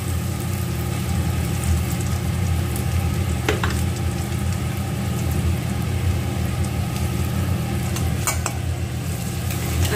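Chopped onion, already reddened, sizzles steadily in a pan of oil after turmeric powder and salt go in, a dense, even frying hiss held at close range for the whole stretch with a couple of brief stirring scrapes.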